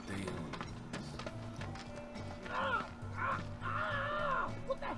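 A dog in Final Fantasy VII Remake barks and whimpers in several short bursts in the second half, fairly close, over a rhythmic background with talking.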